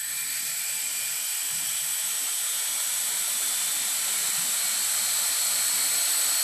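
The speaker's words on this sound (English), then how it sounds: "throttle up until it just barely starts to take off" The rotors of a Blade mQX quadcopter spin in a steady, loud, close whine as the throttle is raised toward takeoff, holding even throughout.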